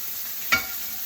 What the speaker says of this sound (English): But listen to that music of the steak being cooked.